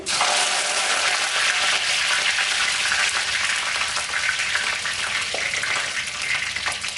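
Fenugreek seeds fry and splutter in hot oil in a pan while making a Chettinad dried-fish curry, a dense, continuous crackling sizzle close by with no pauses and no voices.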